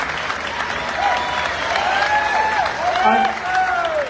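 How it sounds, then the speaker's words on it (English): A crowd at the Fleadh Cheoil, an Irish traditional music festival, applauds with sustained clapping and a few cheers and whistles, steady and fairly loud throughout. "I think that deserves a round of applause"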